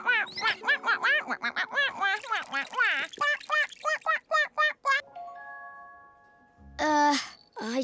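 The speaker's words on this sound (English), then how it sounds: "Little duck, where do you come from?" A cartoon duck quacks in quick, bright, repeated bursts, close and prominent, alternating with animated character voices talking over light background music.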